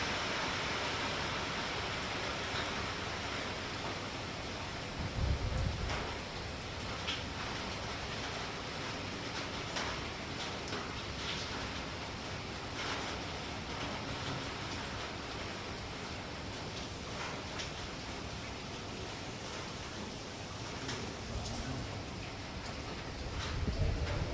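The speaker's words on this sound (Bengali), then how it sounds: "এখন আরো জোরে বর্ষা নেমে গেছে।" Heavy monsoon rain pours steadily at night in an Andaman town, a dense continuous hiss of water on surfaces and running streets, loud and unbroken for the whole stretch with a few brief heavier gusts.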